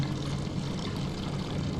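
Water gushing steadily from pipes in a basement-puzzle game, a continuous splashing pour with a low rushing undertone, loud and unbroken, with no voices.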